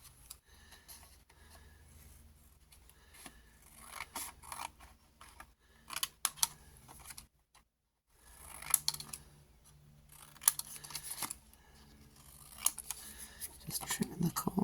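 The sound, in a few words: trimming the corners off printed vellum paper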